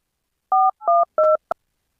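Telephone keypad dialing tones, three clear evenly spaced beeps followed by a fourth very short one, crisp and isolated in silence.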